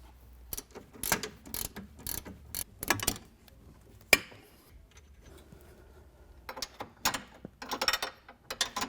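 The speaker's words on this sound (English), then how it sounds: "Now, remove the hardware that holds the factory rack through the rack mount." A hand ratchet works loose the factory steering rack mounting hardware on a Polaris RZR Turbo-S, giving bursts of close, sharp clicking strokes with short pauses between them and a single louder clank midway.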